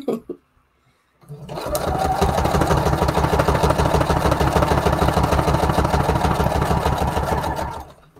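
A sewing machine starts up after a brief quiet and runs steadily, a fast rhythmic mechanical whir and clatter, close and loud, then stops.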